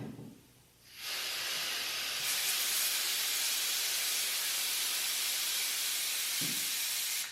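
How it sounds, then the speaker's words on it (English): Air hisses steadily and loudly from a small leak in a compressor hose in a garage, a broad continuous rush that starts abruptly after a second of near quiet. "This bluish green hose is the hose for my compressor. That has a small leak in it right now."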